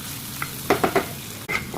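Onions with garlic and potato frying in a pan, a few short scraping stirs over a soft steady sizzle, close and fairly quiet.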